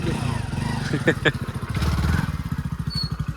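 A motorcycle engine putters steadily with a rapid, pulsing rhythm, close by, with a voice speaking briefly over it.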